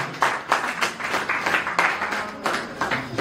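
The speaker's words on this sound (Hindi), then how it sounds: "आप ताली बजा सकते हैं" An audience claps at a spiritual Hindi poetry recital: a modest, uneven patter of hands with separate claps standing out, steady for a few seconds at moderate volume.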